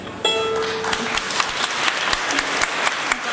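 Festival audience applause at Balatonboglár, a dense crowd clapping with distinct individual claps standing out, continuous over a few seconds at moderate loudness.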